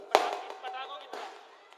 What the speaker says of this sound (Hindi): ये पटाखे जो बज रहे हैं ना, ये जो पटाखे बज रहे हैं